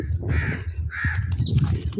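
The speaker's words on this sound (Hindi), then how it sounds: "यहाँ पे कौवा भी हमारे पीछे पीछे यहाँ तक आ गया है" A crow caws in a village, several loud, harsh calls close by in quick succession over a low background rumble, with no talking.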